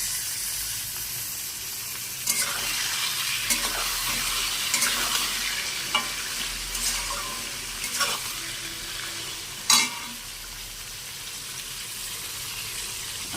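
Mutton frying in a pan with browned onions, a loud continuous sizzle with intermittent stirring scrapes and a sharper clank near the end, close up with no talking.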